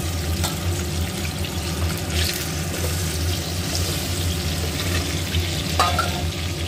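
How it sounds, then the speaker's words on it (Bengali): Potatoes and carrots fry in fish oil in a pan, giving a steady close sizzle with stirring scrapes throughout and a brief clatter near the end. "দেখুন মাছের যে তেলটা আছে ভাজার, আমি এই যে এখানে আলু এবং গাজর ভালোভাবে কেটে ধুয়ে রেখেছি, আমি এটাও কিন্তু লাল করে ভালো করে কিন্তু ভেজে নেব।"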